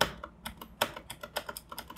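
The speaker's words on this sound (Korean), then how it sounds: "그 위에 키보드를 누르시고 살짝 눌러주시면" Keys on a mechanical laptop-style keyboard are pressed after a keycap replacement, producing a quick series of crisp, close clicks in an uneven rhythm with no voices.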